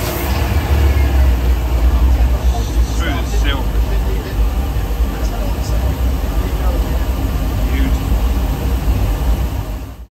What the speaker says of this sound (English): they're V8, they sound fantastic